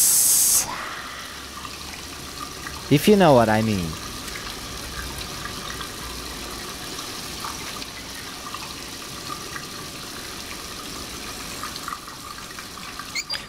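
Shower water running in the video game Heavy Rain, a steady broad hiss of spray throughout, briefly interrupted by a rising musical tone, with a voice speaking over it.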